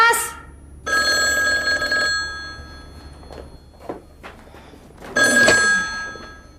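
A telephone bell rings in two loud bursts with a pause between, set in an Indonesian comedy scene inside a house, with voices talking faintly around the rings.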